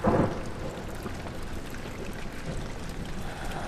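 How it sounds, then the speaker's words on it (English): Steady rain hisses with a low rumble of thunder at the start, a continuous stormy wash without voices, in the video game Amnesia: The Dark Descent, set in a castle. "It's obviously raining."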